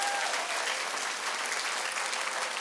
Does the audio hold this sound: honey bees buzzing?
no